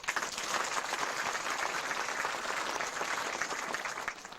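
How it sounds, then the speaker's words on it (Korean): A church congregation applauds steadily at a new building's dedication service in Cheonan, a dense, continuous wash of many hands clapping at even loudness with no speech over it. "박수 한번"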